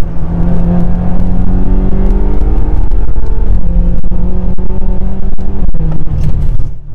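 A 2013 BMW F13 M6 accelerates hard with its rear end stepping out, the engine note loud and close as it climbs steadily in pitch, with no talking.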